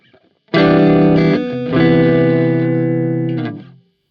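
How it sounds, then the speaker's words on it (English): A distorted electric guitar rings out in sustained chords through a Warm Audio WA-C1 analogue chorus pedal, its preamp adding volume and distortion, loud and thick, swelling brighter midway before fading out. "it gets louder and more distorted because you have a preamp"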